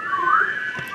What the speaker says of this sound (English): I want you to whistle